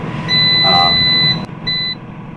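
A short electronic GoWISE USA air fryer timer beep, a steady high tone lasting about a second, then a second briefer beep, loud and close.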